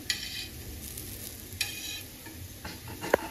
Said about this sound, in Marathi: आणि कारली आपण आता एका बाजूने 2 मिनिटं चांगली फ्राय करून घेऊया